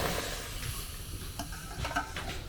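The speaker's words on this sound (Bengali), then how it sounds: "টমেটোটা একেবারে পিউরিটা কড়ার মধ্যে ঢেলে দেব" Tomato puree poured into a hot kadai (wok) while making homemade tomato sauce, giving a steady close sizzle and hiss with a few soft spattering pops throughout.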